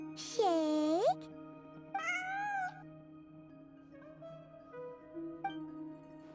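A cat meows in a video game side quest, with a long rising-falling meow followed by a second shorter meow and softer chirps, close and clear over a steady tonal background hum.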